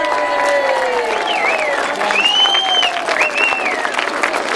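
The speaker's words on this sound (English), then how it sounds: "can we have a big round of applause, please, for Great Britain?" A crowd applauds and cheers for the Great Britain team at a longtrack speedway world team championship medal ceremony, with sustained clapping, whistles and rising shouts over an open-air stadium din.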